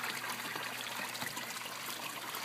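Steady trickling and splashing of water into a koi stock tank, continuous and close, with no voices.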